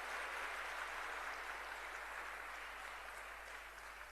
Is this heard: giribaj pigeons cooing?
no